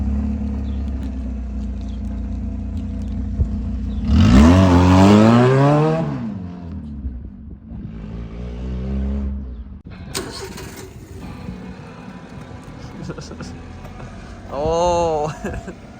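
Honda Civic engine with no exhaust fitted, idling with a deep rumble before a loud raw rev climbs and falls, then further shorter blips, close by and harsh.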